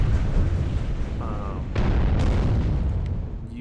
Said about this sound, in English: One thing that I know I can do is come here, just keep bombing these poor Frenchmen.